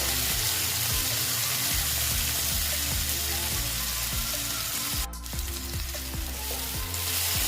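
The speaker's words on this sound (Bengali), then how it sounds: "আলু আর পেঁয়াজ একসঙ্গে ভাজা হোক" Potatoes and onions with turmeric fry steadily in a pan, a dense continuous sizzle with a faint rhythmic tapping underneath and a brief clatter partway through, no voices.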